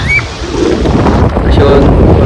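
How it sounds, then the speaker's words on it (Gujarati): Strong wind at the seashore buffeting the microphone in a loud, continuous roar with a low rumble of surf beneath. "પવન મસ્ત આવે છે"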